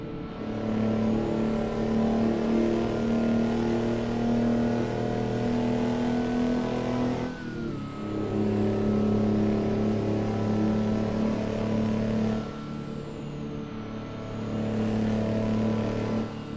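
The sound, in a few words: truck engine revving in video game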